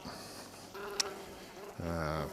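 Honey bees buzz around a beehive, a faint, close, wavering drone with one louder pass of a bee near the end.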